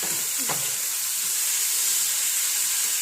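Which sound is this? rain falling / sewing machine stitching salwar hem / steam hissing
steam hissing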